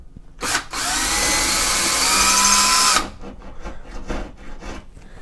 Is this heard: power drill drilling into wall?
yes